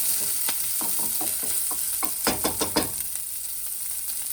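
Finely chopped green chili hitting hot oil with cumin seeds, a steady sizzle broken by a run of sharp crackles and stirring scrapes midway, close and fairly loud with no talking.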